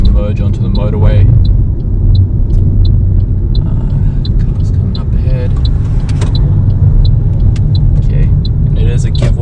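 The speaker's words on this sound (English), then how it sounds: "Just going to merge onto the motorway." A car merges onto a motorway during a driving-test lesson near Greenslopes, with loud, continuous road and engine rumble and a regular indicator ticking throughout.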